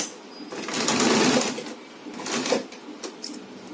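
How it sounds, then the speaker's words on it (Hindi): A sewing machine stitches elastic into the waistband of a pair of trousers, running in a close, loud whirring burst, then shorter stop-start runs of stitching. "आधा इंच इसको एक दूसरे के ऊपर चढ़ा करके सिलाई कर दें"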